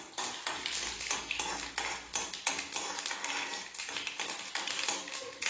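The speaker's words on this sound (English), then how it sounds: "So the urad dal is roasted" Urad dal roasting in a pan gives rapid, dry tapping and rattling as the grains are stirred, with quick irregular clicks at low volume and no voices.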